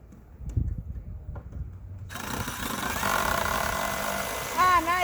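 A power drill backs a screw out of an old wooden playground board, starting after two seconds of quieter knocking and handling, then running as a steady whine that rises near the end.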